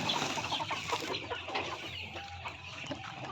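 Native chickens cluck and murmur in a farmyard pen, several birds close by producing soft, overlapping clucks over steady outdoor background noise.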